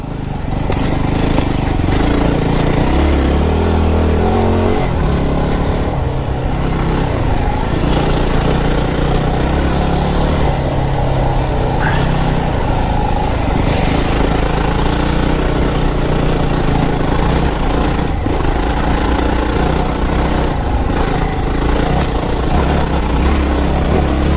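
Yamaha WR250R dual-sport motorcycle engine running steadily while riding and cornering, a loud, continuous low drone with rough rumbling texture that persists throughout, no speech over it.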